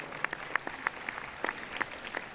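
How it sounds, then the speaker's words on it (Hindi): Children clapping for two students at a school gathering, a light scatter of hand claps over a short stretch with no voices. "जोरदार तालियां बजाओ इन दोनों बच्चों के लिए।"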